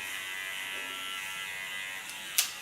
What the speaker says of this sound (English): The same I do on the right side, leaning on the right side of my clipper blade.